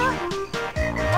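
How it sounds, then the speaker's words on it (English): A frog croaks in the Banjo-Kazooie video game: a few loud, close, buzzing croaks in quick succession, alone with no talk over them. "Here, frog."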